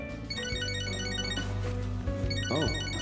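A mobile phone rings in the Catherine Full Body game, a repeating electronic ringtone melody playing clearly and alone with no talk over it.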